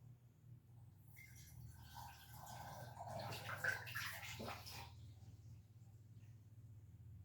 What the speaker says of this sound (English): I'm going to fill these little bottles with moon water and hopefully not make a mess